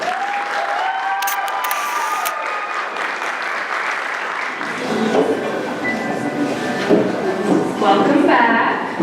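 Audience applause at a Job's Daughters pageant in Oregon, steady and fairly loud throughout, mixed with some crowd noise and tonal sounds early on.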